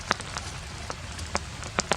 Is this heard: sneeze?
no